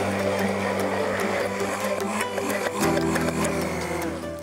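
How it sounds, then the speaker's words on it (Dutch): Handheld electric mixer moved up and down while blending homemade mayonnaise from oil, a steady close whirring drone that shifts pitch partway through, with no voices. "En we maken een op- en neergaande beweging met die mixer."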